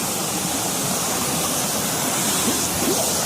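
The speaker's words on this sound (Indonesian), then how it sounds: "Namanya air terjun Frosimo ya guys" Pulo Simo waterfall roars as a steady, dense rush of falling water that fills the scene evenly from start to finish, close and loud, with no voices over it.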